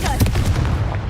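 Blasting spell cast in the video game Hogwarts Legacy, a short, loud burst of booming explosive impacts, close and heavy, lasting about a second.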